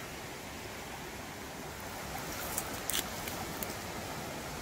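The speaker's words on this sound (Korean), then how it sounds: "계곡에는 물소리가 이렇게 힘차게 들리고 있어요." A mountain valley stream flows strongly among autumn foliage, giving a steady, faint broadband rush of water with no breaks and no voices.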